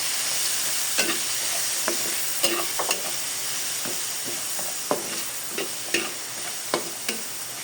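Sweet potato and carrots stirred in a hot pan, a continuous sizzle and hiss broken by a series of sharp spatula scrapes at irregular intervals, close by with no talking.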